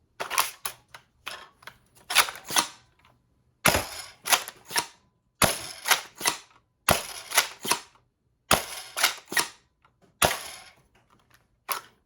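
A prototype MIG Primary foam dart blaster fires darts in sharp, snappy shots, some in quick bursts and others spaced by short pauses, loud and close with no talk.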